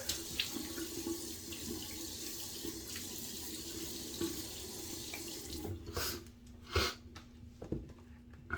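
Tap water runs steadily into a bathroom sink as a face is wetted before a shave with a Schick injector razor, a continuous close splashing stream that breaks into a few louder splashes and drips near the end.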